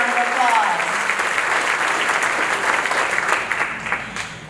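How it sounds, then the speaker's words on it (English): An audience at a Republican meeting in a large room breaks into sustained applause, dense clapping that swells early and holds steady before tapering slightly toward the end. "big round of applause."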